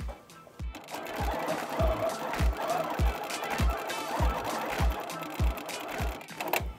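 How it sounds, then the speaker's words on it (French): A Grace Company Little Rebel 2024 quilting machine stitches in a quick, regular run of thumping needle strokes, close and clear, about two per second. "N'est-ce pas génial de pouvoir piquer nos courtes pointes avec une machine avec un beau dégagement"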